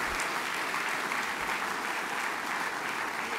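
Audience applause at a Polish SLD party election convention, a dense, steady wash of clapping from a large crowd lasting throughout, with no voices standing out.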